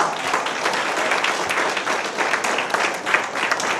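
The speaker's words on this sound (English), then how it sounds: "Can we please give a round of applause to Taste Catering for providing the food and the bar?" Brisk audience applause at a catered event, a close, dense burst of clapping with steady energy throughout the few seconds.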